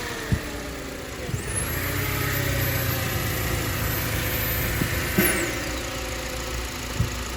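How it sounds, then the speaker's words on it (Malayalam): Idling Toyota Prado engine at a Qatar car auction, a steady mid-pitched hum under a thin continuous air-intake hiss, with a high whistle rising and holding before falling away and a few sharp knocks. "എന്താ ഒരു എയർ പിടിക്കുന്ന സൗണ്ട് കേൾക്കുന്നത്?"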